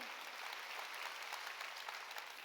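A church congregation claps during a Sunday worship sermon, a soft, steady patter of many hands heard from a distance, continuous and even with no talking over it.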